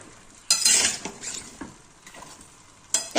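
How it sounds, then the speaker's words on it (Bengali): Winter vegetables stirred in a frying pan, giving scraping, sizzling bursts near at hand with brief pauses between strokes, and no voice. "ভালো করে মিশিয়ে নেব।"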